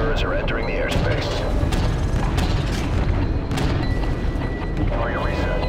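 Heavy bomb-run explosions from the video game Call of Duty Modern Warfare 3 rumble continuously, with deep booming impacts and aircraft drone layered in a loud, dense battle mix.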